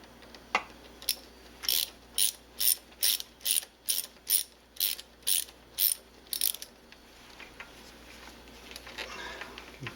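A ratchet loosens a 6mm hose clamp on a Mercedes-Benz W202 C280 M104 engine, giving about ten crisp, evenly spaced clicking bursts up close before falling quiet.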